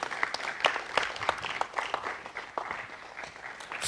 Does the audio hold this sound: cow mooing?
no